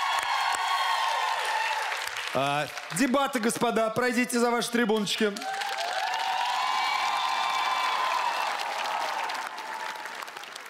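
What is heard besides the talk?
studio audience applause on TV improv show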